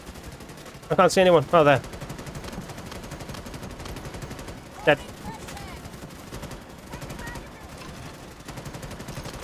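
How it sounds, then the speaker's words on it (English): Gunfire in the video game Starship Troopers: Extermination, two short loud automatic bursts and a single sharp shot amid steady game ambience, with someone talking over it. "Sometimes I'm literally shooting at nothing."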